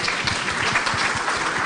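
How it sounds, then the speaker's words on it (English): Conference audience at a Cannes panel session claps in a dense, steady round of applause, loud and close with individual claps audible throughout. "please welcome this applause"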